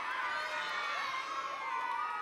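Children at a summer church camp worship session cheering together, a sustained loud crowd of shrill shouts and whoops filling the room.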